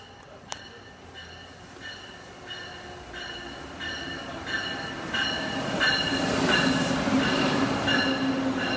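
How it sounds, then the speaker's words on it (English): An Amtrak Northeast Regional passenger train rolls into the station at track 1 with a steady rumble that grows louder, rhythmic wheel clicks over the rail joints, and a rising metallic squeal. "The train arriving at track 1 was Amtrak Northeast Regional 182."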